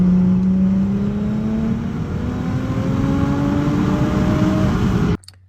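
A turbocharged Audi B5 S4 accelerating hard, its engine note climbing through rising pulls across the gears, loud and close, before cutting off abruptly at the end.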